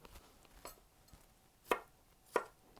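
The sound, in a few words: boning knife chopping vegetables into quarter-inch pieces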